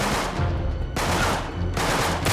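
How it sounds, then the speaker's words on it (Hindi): Rapid gunfire in Uncharted 3: Drake's Deception, loud bursts of automatic shots in two dense volleys separated by a brief lull, with no talking. "गोलियां चलनी स्टार्ट"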